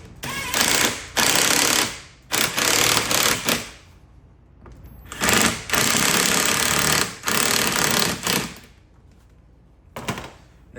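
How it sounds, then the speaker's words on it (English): A ratchet with an 8mm socket tightening air intake clamps on a Dodge Challenger during a cold air intake and throttle body install, loud close bursts of rapid clicking in several spurts separated by short pauses. "8mm socket, tighten them down"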